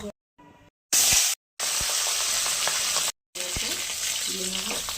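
Taro pieces sizzle and crackle loudly in oil in a pan in several bursts separated by brief silent cuts, with occasional utensil scrapes and faint voices underneath.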